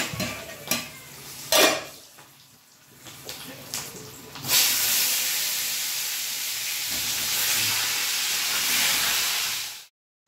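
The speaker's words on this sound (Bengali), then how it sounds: "এখানে গরম তেল বসিয়েছি, আলুগুলো ভেজে নেব" Skin-on potatoes drop into hot oil for a Sunday mutton meal, turning after a few clanks and scrapes of utensils into a loud, steady, close sizzling hiss that fills the rest of the moment.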